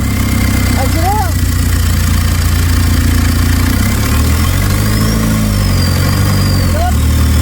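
A car engine runs loud and close, its rumble rising and falling as it revs, with brief voices heard over the drone.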